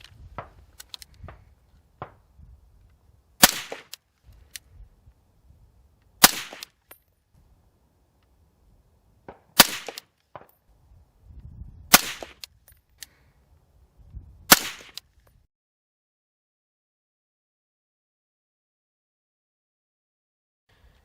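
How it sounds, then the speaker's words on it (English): Suppressed .308 rifle fired through a Saker 762 suppressor, five sharp, loud reports spaced a few seconds apart, with quieter handling clatter in between and silence at the end. "Now we're going to see how the Saker 762 does on the 308."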